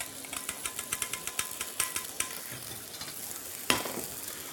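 Asparagus sizzling in olive oil in a hot pan, with a steady frying hiss broken by a run of rhythmic stirring scrapes and a sharper clatter near the end.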